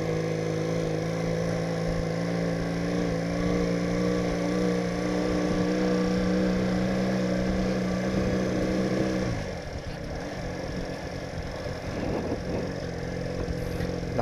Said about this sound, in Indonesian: Motor kecil tapi gandeng.